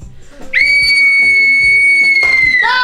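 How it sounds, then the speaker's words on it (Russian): A coach blows a whistle in one long, loud, piercing blast lasting about two seconds, followed by a shorter warbling toot at the end. "Вы знаете, как свистеть свисток?"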